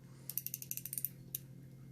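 A low-profile 1/4 inch drive pass-through ratchet from a GM PowerTorque socket set clicks in a quick, close run of about a dozen crisp pawl ticks, then a single click after a short pause.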